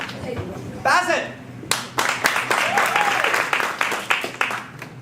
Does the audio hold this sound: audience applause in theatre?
yes